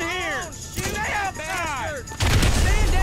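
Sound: grenade launcher fire in GTA V video game

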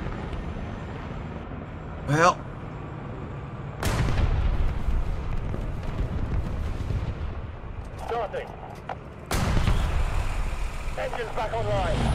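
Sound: gunfire in the War Thunder video game

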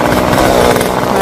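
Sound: chainsaw cutting tree branches

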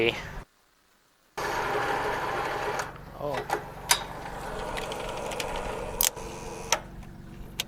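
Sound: used tractor engine starting with weak battery

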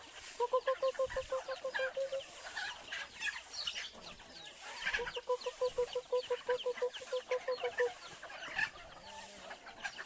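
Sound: chickens clucking

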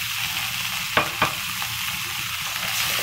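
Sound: sweet corn frying in butter in a kadhai

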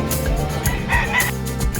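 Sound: chickens crowing at Malasiqui livestock market

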